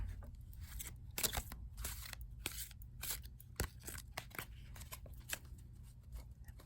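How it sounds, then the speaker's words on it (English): Oracle cards riffle and snap in quick, papery bursts, close and fairly soft, repeating irregularly with no talking. "I'll give the deck one last little bit of a shuffle."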